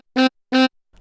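Greaten AP500 Pro EWI electronic wind instrument sounding two short tongued notes, each a clipped buzzy tone of the same pitch separated by a brief gap, close and isolated.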